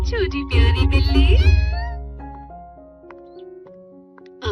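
A cartoon cat gives high, drawn-out meows near the start, loud and close, then a voice speaks with soft musical tones behind it.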